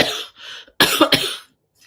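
Two harsh coughing bursts from an adult who has allergies, close and fairly loud, the second pair of coughs louder than the first, ending with a faint short sound.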